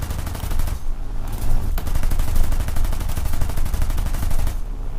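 Machine gun fire strafes a Japanese column, loud sustained rapid bursts of gunfire filling the scene with dense rattling shots and a brief pause before the firing resumes.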